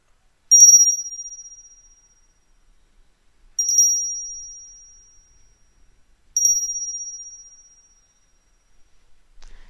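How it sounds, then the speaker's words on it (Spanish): Three bright, clear strikes of a small bell ring out alone at even intervals of about three seconds, each tone sustaining and slowly fading into silence. "deja que el sonido de esta campana limpie tu energía"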